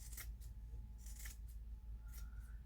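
Scissors snip pieces for a DIY farmhouse-style Christmas lamp, several quiet crisp cuts close up in a quiet room with no talking.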